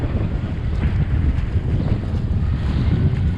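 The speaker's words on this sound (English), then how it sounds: "It's rough, it's windy, but it's beautiful." Steady, heavy wind roars across the microphone on a boat in rough seas off Indonesia, with a constant low rumble, water and hull noise churning underneath, loud and unbroken throughout.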